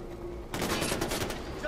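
Gunfire aimed at a leopard in the video game Far Cry 4, a rapid burst of shots that starts suddenly after a short quiet lead-in and rattles on steadily, fairly close.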